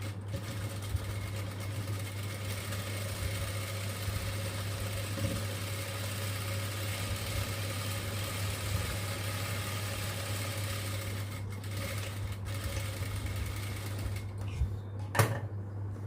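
A sewing machine stitches a baby frock with a steady, low mechanical hum that runs without a break, with a few brief clicks and taps near the end.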